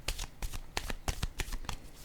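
A deck of tarot cards is shuffled close up in a series of crisp riffling bursts, roughly eight quick rhythmic flurries with short gaps between them, heard alone without talk.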